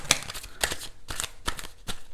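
Oracle cards being handled and drawn from a deck, giving five quick papery swishes and flicks spaced roughly half a second apart, close and fairly quiet with no voices.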